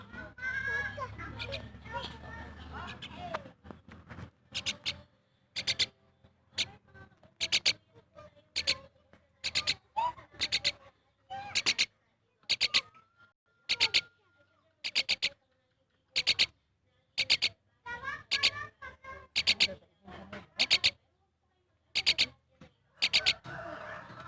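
A pet bird gives short, sharp calls repeated at a steady rhythm about once a second, close and fairly clear, while people talk quietly in the background.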